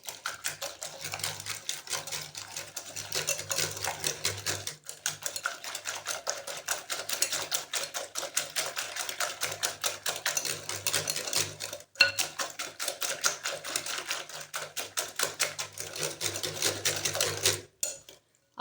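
Whisking an omelette mixture of eggs with green chillies and mixed vegetables in a bowl, a fast, steady clatter of utensil against the bowl that continues for the whole stretch, close and fairly loud, with a short pause near the middle.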